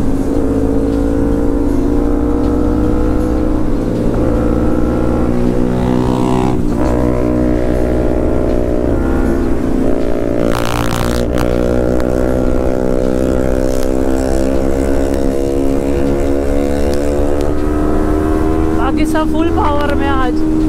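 Kawasaki Ninja 300 BS6 motorcycle ridden at full power on a Sunday ride: loud, continuous engine roar climbing steadily in pitch through the gears, with wind rush and a brief gust midway.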